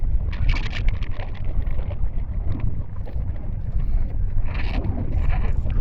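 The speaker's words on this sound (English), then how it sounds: "I'll take this video to show you guys just how windy it was up here" Strong gusty wind on exposed Dartmoor moorland buffets the microphone with a constant low rumble and rushing bursts, loud and uninterrupted, with no voices.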